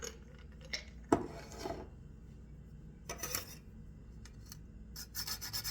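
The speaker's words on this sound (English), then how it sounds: "so I'm going to grate half a nutmeg and we'll see how it goes." Half a whole nutmeg grated by hand for an 18th-century rice pudding with wine, giving soft, quiet rasping strokes in short bursts with pauses between, faint and close, with no talking.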